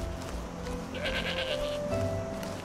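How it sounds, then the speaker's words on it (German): Goats bleat in the video game Enderal, several overlapping wavering calls at moderate distance over a steady ambient background, with no talk. "Ziegen."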